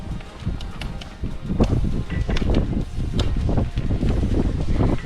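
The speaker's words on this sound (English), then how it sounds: "the only painful thing about camping in this wind" Strong wind at a campsite on the Great Ocean Road buffets the microphone with a continuous rumbling roar, gusting and rustling steadily throughout.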